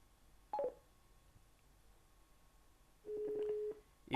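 Short electronic phone tones as a smartphone places a voice-activated call home through a motorcycle helmet intercom: a brief tone blip early on, then a longer sustained beep sequence, faint and alone.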